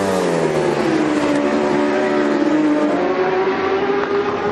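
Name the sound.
Aprilia superstock motorcycles racing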